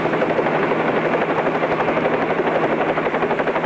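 A helicopter drones steadily nearby, its rotor beating in a fast, even throb with a constant engine hum, loud and alone throughout.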